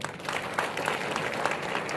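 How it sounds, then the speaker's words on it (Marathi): Audience applause at a lecture for students and parents: a steady, dense patter of clapping from a crowd fills the full two seconds at a moderate, even level with no voices. "विचार मंचावरल्या सगळ्या मान्यवरांसाठी जोरात टाळ्या वाजवा"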